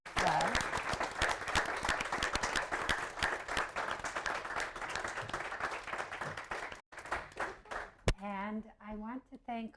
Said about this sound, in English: let's give our candidates a huge round of applause.